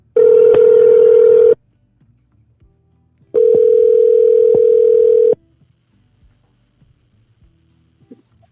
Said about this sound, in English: Let's call Liz.